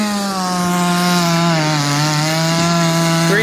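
A Husqvarna-style 372 chainsaw runs at a steady, buzzing high idle out at a chainsaw get-together in Norwich, loud and fairly close, its pitch dipping slightly and then holding for a few seconds with no voices.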